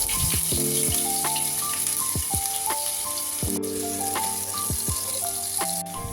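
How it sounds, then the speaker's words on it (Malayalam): Chopped onions frying in coconut oil in a home kitchen, part of a tapioca and meat dish. A close, steady sizzle and crackle carries on throughout, with scattered sharp pops and spoon clinks against the pan. "കുറച്ചധികം ഉള്ളി അരിഞ്ഞ് വെളിച്ചെണ്ണയിൽ തൂമിച്ചെടുക്കാം"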